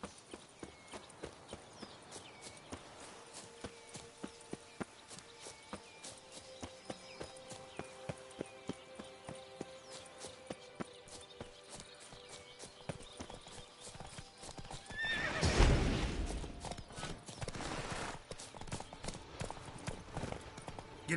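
Horse hooves clip-clop steadily at a trot and gallop in The Witcher 3, with a louder burst of hoofbeats and a neigh-like whinny midway, set against a game music backdrop.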